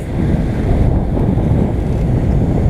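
Wind on a single-reefed sailboat at sea on passage from New Zealand toward Fiji, a loud, constant roar and buffeting across the microphone with the wash of water mixed in, no voices.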